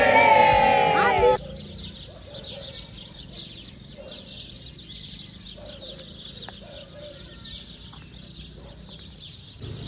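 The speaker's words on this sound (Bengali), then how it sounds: "আজকে এই পাখির আওয়াজ দিয়ে দিনটা শুরু করলাম" After a brief loud burst of music, birds chirp and call steadily at dawn at a resort, with a low coo repeating at intervals.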